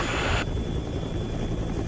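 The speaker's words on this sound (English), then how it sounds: "Taking the chopper any lower is dangerous." A helicopter flies low over a volcano during an eruption survey, a loud, constant rotor and engine roar with a brief louder rush at the start.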